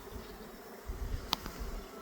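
Bees buzzing around a beehive at the start of pollen season, a continuous low hum close by with one insect passing sharply near.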